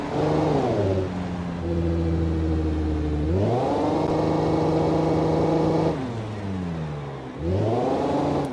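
A homemade four-axle Behemoth truck built on a LeGran car in the BeamNG video game climbs through hills, its engine droning loudly, revving up and dropping back in repeated cycles of rising and falling pitch with no talk.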